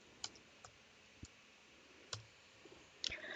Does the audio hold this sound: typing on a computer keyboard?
yes